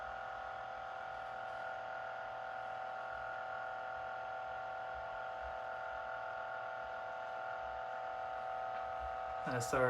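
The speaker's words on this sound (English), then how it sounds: "this fan is pretty loud. I wasn't expecting it to be this loud. It's just whiny." A cooling fan on a homebuilt power supply runs with a steady, whiny electric hum and high tonal drone throughout, fairly faint and constant, ending in a brief clatter.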